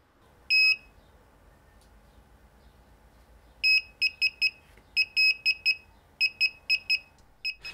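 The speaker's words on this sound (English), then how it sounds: "the 4x beeping sound signalizes that the process has started and is in progress" Sharp electronic beeps from a DJI Phantom 3 drone remote controller during a firmware update: a single beep, then repeated groups of four beeps in a regular pattern over a faint hum.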